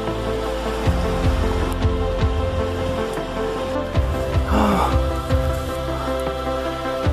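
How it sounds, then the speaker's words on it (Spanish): Rain falls outdoors in Córdoba with a steady, dense patter on surfaces. A few louder drips and knocks stand out over the wash. "Y se largó a llover."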